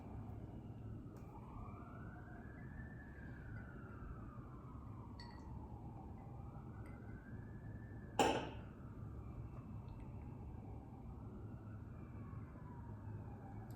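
Police car siren downtown, a wailing tone rising and falling in slow sweeps over steady low city rumble, moderately distant, with a brief sharp bang near the middle.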